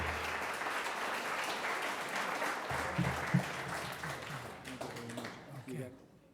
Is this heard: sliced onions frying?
no